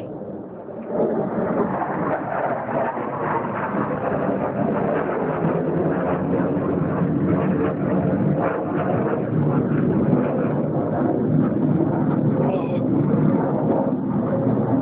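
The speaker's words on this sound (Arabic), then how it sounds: "طائرات ميك تغير على حيش 14 10 2012 طائرات الميك تغير على حيش" A heavy, continuous low roar of MiG warplanes bombing the village of Hish in Idlib, Syria, loud and dense throughout, with a rumbling, thunder-like quality and no clear speech.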